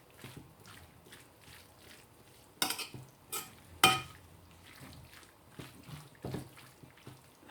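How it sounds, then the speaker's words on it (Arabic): Couscous with tripe being stirred and mixed in a pot, soft scraping and clinking of a utensil with a few sharper knocks, close and fairly quiet, no talking. "je mélange très très bien comme il faut"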